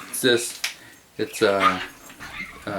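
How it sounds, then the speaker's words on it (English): Dogs playing at a workplace, with several bursts of whimpering and yelping whines separated by short pauses, close and fairly loud, along with some jangling. "So I brought my dogs to work. Bad idea. They were there playing."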